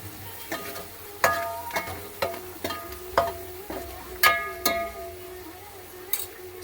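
Turmeric being stirred into a sizzling frying mixture in a pan, a spoon scraping and clinking against the metal in irregular strokes over a steady low fry, close and clear.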